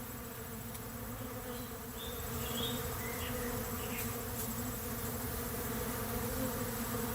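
A steady, dense drone of many bees buzzing continuously around an open feeder, fairly close and moderately loud, with no voices.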